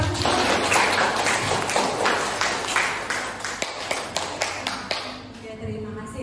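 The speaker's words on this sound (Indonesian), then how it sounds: "Tepuk tangan dulu buat Bapak Ibu." Audience applause at an Indonesian teachers' positive-culture module session, a dense wash of many hands clapping steadily for several seconds, thinning toward the end into a few scattered, sharper individual claps.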